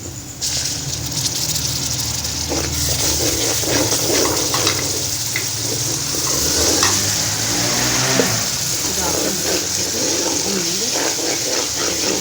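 Ghee added to golden-brown frying onions for mutton aloo keema, giving a steady, loud sizzle with scattered crackles and some stirring scrapes throughout, close up and with no talking.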